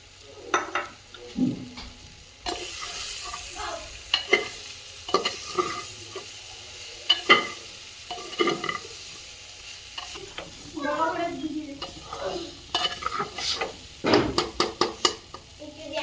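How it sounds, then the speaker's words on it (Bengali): Spices for dry khichuri being stir-fried in a pan, with steady scraping stirs and a continuous sizzle running throughout, close and fairly loud, no talking. "সব একসাথে কষাই করলাম"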